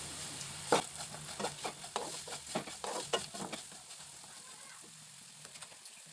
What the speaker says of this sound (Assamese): এতিয়া গুড়খিনি তেলত ঢালি লৈছোঁ।